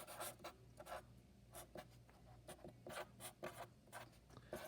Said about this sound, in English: we're going to write down Articles